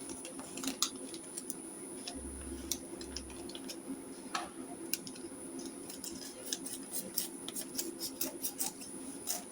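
Fabric scissors snip repeatedly while cutting out a full circle sleeve, a series of crisp, close, irregularly spaced cuts over a quiet room hum with no talking.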